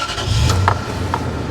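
A truck engine cranks and catches, a short rough burst that settles into a low steady idle, close and fairly loud, with no talk over it.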